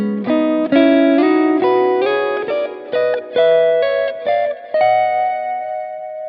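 Electric guitar plays an ascending neo-soul double-stop line that mixes palm-muted and legato phrasing, short clipped pairs of notes rising to a sustained final note, clean and close, with no talking.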